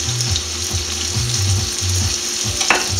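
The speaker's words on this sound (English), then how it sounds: "Give that a little stir so you don't like to burn the bottom." Seafood pasta with mackerel fries in a pan while being stirred, a loud close sizzle broken by repeated scraping strokes of a utensil across the bottom, with a sharp clank near the end.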